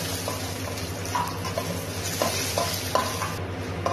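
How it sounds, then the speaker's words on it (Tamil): Cashew nuts sizzle in hot oil with popped mustard seeds and dried red chillies, the steady frying hiss broken by soft scrapes and clicks of a spoon stirring the pan. "இப்போ நம்ம இதுல கேஷ்யூ நட் ஆட் பண்ணிக்கலாம்."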